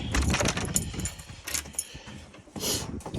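A bunch of new keys from a front door cylinder and deadlock change jangle and clink in quick, close bursts, loud and irregular with no talking.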